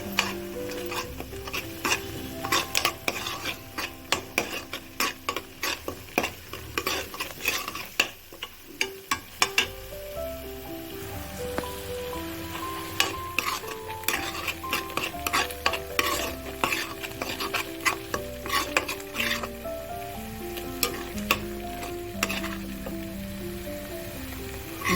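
Sliced onions and curry leaves sautéing in a pan for a chickpea curry, with a soft continuous sizzle and repeated scraping and clinking of a spoon stirring against the metal. Faint music plays in the background.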